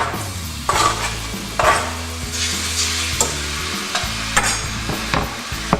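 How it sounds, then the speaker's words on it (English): Cubed bacon dropped into hot oil and frying, a close sizzle broken by clattering stirs and scrapes of a utensil against the pan, with low steady hum underneath and no talk. "what I'm going to start to do is put in my bacon, which I've cubed"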